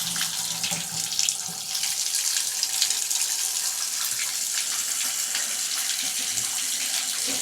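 Water from a faucet pours steadily into a sink whose drain has just been unclogged of hair buildup, a loud, continuous splashing rush close by.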